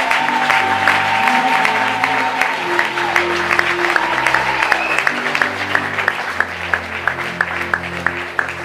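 A church congregation claps in praise to the Lord, sustained rhythmic applause with sharp individual claps over a murmuring crowd and lingering organ-like tones.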